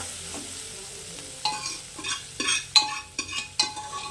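Goat tripe (vajadi) stir-fried in a pan for a spicy Kolhapuri rakti dish, with a spoon scraping and tossing in short bursts while the meat crackles and sizzles after a quiet start.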